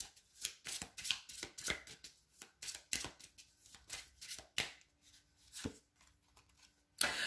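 Tarot cards are shuffled by hand in quick, uneven bursts of soft riffling and slapping, close and quiet, with short pauses between runs and a final sharper tap.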